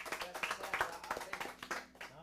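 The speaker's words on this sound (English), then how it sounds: "Clap it up." A burst of quick, uneven hand claps from a small audience at a live lounge show, close by and fairly soft, lasting a couple of seconds.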